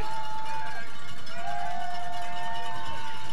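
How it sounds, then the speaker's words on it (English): A crowd at a 2020 high school football kickoff game between Jefferson and Chanhassen roars steadily through a fourth-down play, a dense, sustained wash of noise with a few thin whistle-like tones riding on top. "the crowd getting loud"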